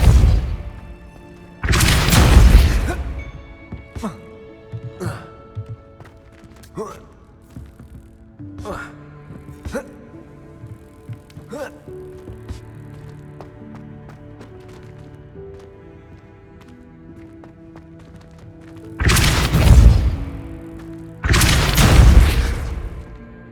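Spell effects from Hogwarts Legacy, Accio and Depulso: loud booming blasts at the start and two more near the end, with sharp magical impacts and thuds scattered through the quieter middle stretch.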